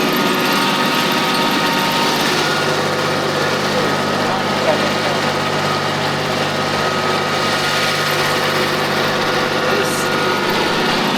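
A Japanese mini tractor's small engine, recently overhauled, drones steadily and continuously during tilling, a high-pitched motor hum close by with no change in pace.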